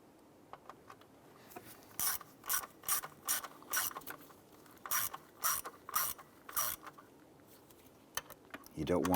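Socket ratchet snugging throttle body bolts on a Ram 1500, close and clear: a run of quick clicking bursts in a steady rhythm, about a dozen strokes with brief pauses, over a quiet background.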